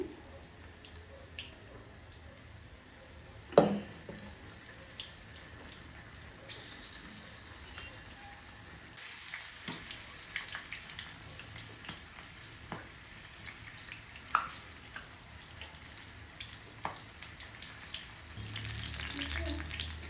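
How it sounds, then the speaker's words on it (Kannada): Mirchi bajji fry in hot oil in a small pot, a soft continuous sizzle with occasional sharp clinks and spoon taps, growing slightly louder later. "ಚೆನ್ನಾಗಿ ಕೆಂಪಗಾಗತಕ್ಕನ ಕೊರಿಬೇಕಿದು. ವೈಟ್ ಇದ್ದರೆ ಟೇಸ್ಟ್ ಇರಲ್ಲ, ಸ್ವಲ್ಪ ಗರಿ ಗರಿ ಆಗತಕ್ಕನ ಕೊರಿಬೇಕು."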